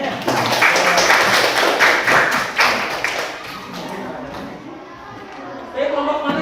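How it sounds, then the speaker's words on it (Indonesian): Classmates clap for a presenting group in a school classroom, a loud close burst of hand claps and thumps that gradually thins out, with voices talking over it toward the end. "Tepuk tangan buat temannya ya."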